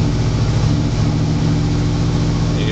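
A 1976 Ford F-100 Ranger truck engine warms up, a steady, close, throbbing low idle that holds even and loud throughout with no talk.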